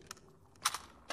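Weapon reloading in Half-Life 2 VR: a few short mechanical clicks and clacks, close and fairly quiet, with a sharp double snap in the middle and one more click at the end.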